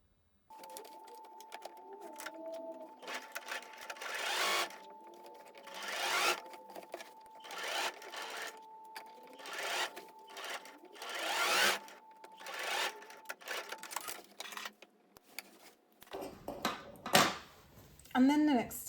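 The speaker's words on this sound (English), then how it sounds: "we're just going to sew along here." A sewing machine runs in bursts of rapid whirring stitches along the seams of a pair of shorts, starting and stopping, while someone talks over it.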